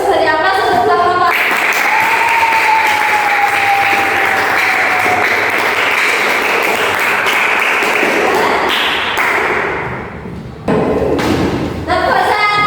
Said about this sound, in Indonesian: Terima kasih presentasi kalian hari ini sangat bagus. Beri aplaus untuk kelompok.